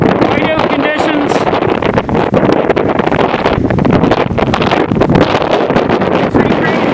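Blizzard wind gusting hard with blowing, drifting snow and whiteout conditions, a loud, close roar buffeting the microphone continuously, with a voice talking over it.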